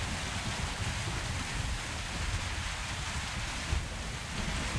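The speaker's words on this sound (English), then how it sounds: "Sounds like there's a storm coming in." Steady rain hisses continuously with a low rumble of wind beneath it in the video game Metro Exodus, a dense, even wash of storm noise with no voices.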